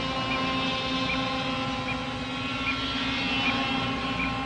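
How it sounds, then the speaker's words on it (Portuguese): Radio-controlled helicopter flying in windy storm-chasing conditions, a steady droning engine and rotor whine with a high whistling tone, continuous and fairly loud throughout with no talking. "com o helicóptero controlado por rádio sob essas condições"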